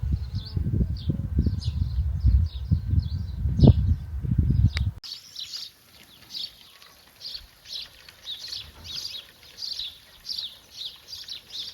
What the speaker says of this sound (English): hear in the background all the birds chirping